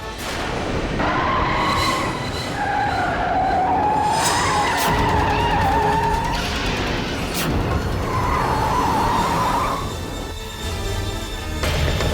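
A car's tyres screech in a long wavering squeal as it skids to a halt in a Hindi TV drama scene, loud and close, fading into quieter engine noise.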